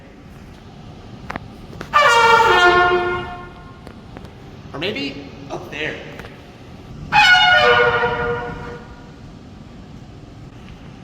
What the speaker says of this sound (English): Have you ever wondered what a trumpet sounds like?